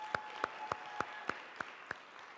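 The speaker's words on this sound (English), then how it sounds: "Another round of applause for the beautiful sign." A small TEDx audience at Bellarmine University claps sparsely, seven separate distinct claps in a slow, evenly spaced rhythm, fairly faint.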